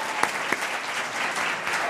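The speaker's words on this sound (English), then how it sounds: "please join me with a big round of applause for Mark Platt" Audience applause at a performing arts house's tenth-anniversary celebration, a steady wash of clapping from a crowd with a couple of sharper individual claps standing out near the start.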